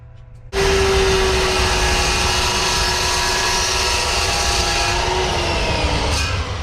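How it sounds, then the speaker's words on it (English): A power saw starts abruptly and cuts through half-inch Schedule 80 steel pipe being sized for tractor steering parts, making a loud, continuous grinding whine with a steady pitch that holds close and unbroken to the end. "I can go ahead and get my pipe that I'm gonna be using to build these and cut it to length."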